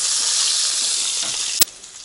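Onion and turmeric frying in a pan for palak paneer: a steady bright sizzle fills the clip, loud and close, with one sharp clack near the end as the sizzle fades slightly.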